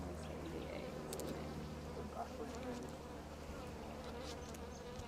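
Honey bees buzz steadily during a brood inspection at the hive, a close, continuous drone of many wings, with faint talking at times.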